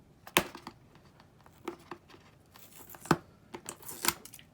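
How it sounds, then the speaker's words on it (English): A Corsair K55 RGB gaming keyboard box is torn open in short, sharp rips and crinkles of cardboard and plastic, irregular bursts close to the mic with quiet pauses between, and no talk. "I'm going to try to get this box open."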